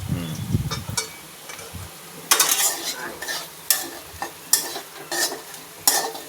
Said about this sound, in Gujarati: મરચાં સાથે આમ ફેરવી નાખવાનું.